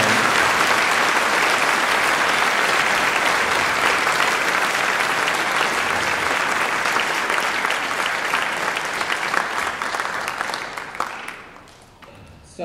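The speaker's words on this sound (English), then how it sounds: "huge applause" Big, sustained audience applause for a youth string orchestra at a season concert, dense clapping filling the hall and gradually thinning and fading toward the end.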